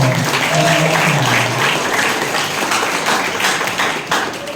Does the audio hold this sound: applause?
yes